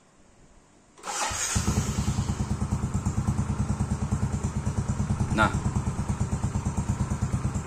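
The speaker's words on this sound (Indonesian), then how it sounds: "langsamnya di motor X-Rate saya udah normal ya, nggak besar lagi." A Yamaha X-Ride motorcycle, fitted with a new idle speed control valve, starts after a brief quiet and settles into an even idle with a rapid, regular chugging pulse. A voice speaks briefly near the start, and a short extra clatter comes partway through.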